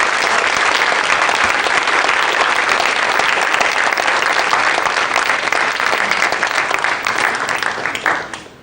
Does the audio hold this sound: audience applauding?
yes